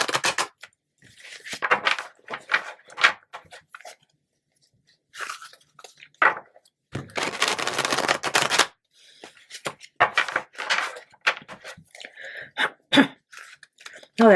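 A person coughs and clears their throat several times in short bursts separated by quiet gaps, with some crunchy rustling close by and a little speech between the bursts.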